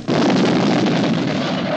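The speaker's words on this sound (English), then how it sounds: "But it'll still make quite a bang when it comes down." A building demolition blast sets off a loud, dense roar that starts abruptly and holds steady without letting up, with no voices over it.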